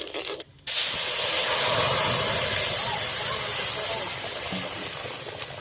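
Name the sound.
five-spice tempering sizzling in hot oil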